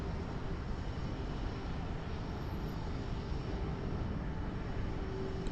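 A SmartWings airliner's engines in Microsoft Flight Simulator 2020 at Lisbon airport give a steady, unbroken jet roar that holds level throughout, with no talking.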